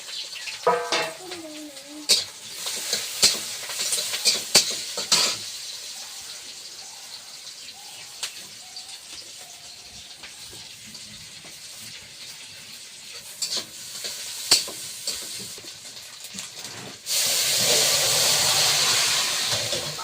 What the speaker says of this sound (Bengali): তেলটা গরম হয়ে গিয়েছে, এবার কিন্তু পেঁয়াজ আর কাঁচা লঙ্কা তেলে দিয়ে দিলাম।